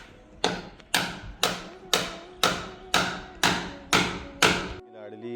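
Workers hammering while fitting a door and cutting the slot for its latch, eight evenly spaced sharp blows about half a second apart, close and loud, each ringing briefly before the next.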